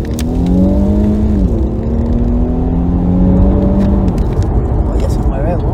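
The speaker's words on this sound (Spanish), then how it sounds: "cuando él trepa las revoluciones, el sonido empieza a entrar por la bocina" 2021 Infiniti Q60 Red Sport engine revving under acceleration, heard from inside the cabin with rising and falling tones through gear changes, while someone talks over it.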